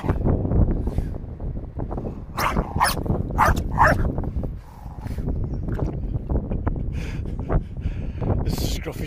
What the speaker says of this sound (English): barking with a squeaky ball